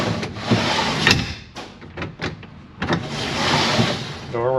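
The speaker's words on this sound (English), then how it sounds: "Let's see if the door works." A door is opened and closed, giving several close knocks, rattles and clunks in an uneven sequence, with some mechanical whirring and shuffling noise between the impacts.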